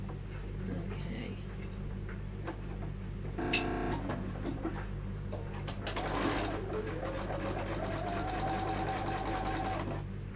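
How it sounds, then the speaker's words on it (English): A sewing machine stitching a daisy quilt block, heard close as a fast mechanical rattle of needle strokes running in bursts, with a voice talking at times. "We're going to sew on that line there, or just to the side of the line."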